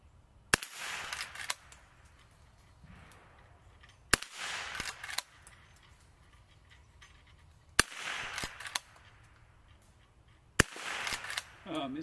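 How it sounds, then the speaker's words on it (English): A 57-year-old Marlin Model 39A rifle fires four spaced shots outdoors, each a sharp crack followed by short echo and rustle, with someone talking quietly between shots. "Marlin Model 39A, we're going to see if it can still shoot."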